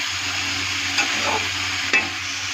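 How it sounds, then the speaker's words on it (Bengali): Potato and eggplant frying in a pan give a dense, continuous sizzle, close and loud, with a couple of brief stirring scrapes breaking through near the end. "আলু বেগুনটা ছেড়ে দেবো, ভালো করে মিক্স করবো"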